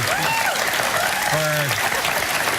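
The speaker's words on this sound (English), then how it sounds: "Look, they're clapping." A studio audience at a live morning talk show claps through a steady wash of applause while a host talks and sings over it in the foreground.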